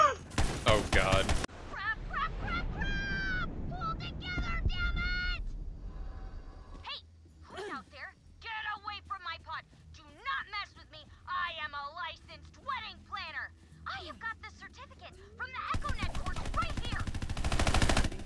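Loud bursts of rapid automatic gunfire in a video game open and close the stretch, with someone talking in between and quieter game sounds under his voice.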